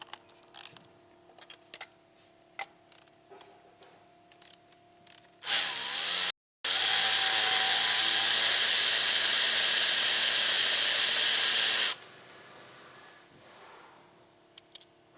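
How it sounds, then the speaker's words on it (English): A power tool on a socket removes spark plugs from a 2017 Kia Sportage, whirring in a short burst and then in a longer loud, steady high-pitched run, preceded by light clicks and taps and no talk. "now with our spark plug socket, size 5/8, we're going to go ahead and remove the spark plugs."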